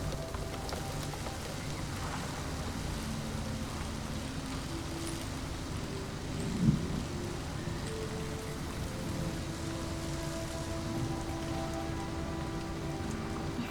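Steady rain falls in a video game, a dense even hiss of drops on surfaces that holds at a constant level throughout, with one brief soft thump midway and no talking.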